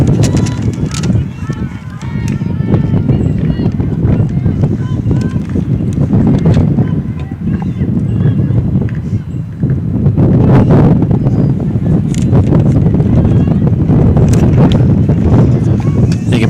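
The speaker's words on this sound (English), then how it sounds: "You can probably hear the wind gusting through here" Wind gusts across an outdoor softball field during a 5A state playoff game, roaring and buffeting the microphone continuously with surging rumble.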